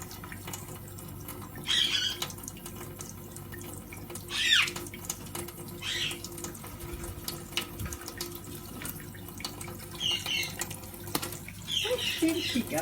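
Indian Ringneck parrot bathing under running water from a tap, with a steady splashing and trickling flow, and occasional sharp squawks and chirps rising over it.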